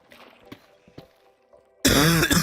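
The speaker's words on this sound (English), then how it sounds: "I don't mean to be coughing directly in the microphone." Coughing right into a microphone during a livestream: quiet throat-clearing noises first, then a sudden, very loud, distorted cough burst close to the mic that overloads the end.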